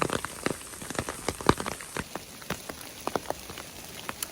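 Garbanzo-bean-size hail falling outdoors in New Mexico during a hike, heard as scattered sharp ticks and pattering impacts over a steady background hiss, with no talking.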